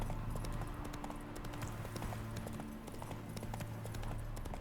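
A horse's hooves clip-clop in a quick, even galloping rhythm throughout, close and steady over a low ambient hum while riding through The Witcher video game, with no talking heard.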